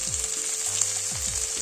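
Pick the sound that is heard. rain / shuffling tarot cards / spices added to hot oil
spices added to hot oil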